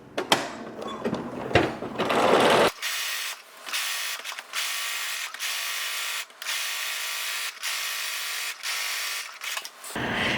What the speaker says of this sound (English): I'm top stitching right at about 1/4 of an inch